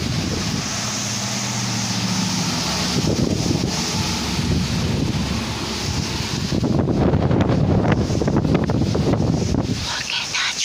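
Strong storm wind roars and buffets the microphone continuously, with heavier gusts rushing in partway through; a person talks over the wind.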